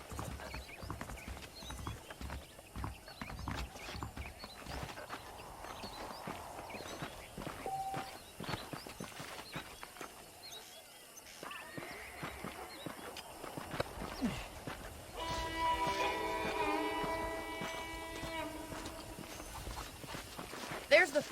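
Horses clip-clop at a walk in Red Dead Redemption, a continuous rhythm of hoof knocks under voices talking, with a brief whinny and some bird calls among the steps.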